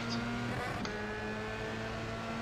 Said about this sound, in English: Car on the left.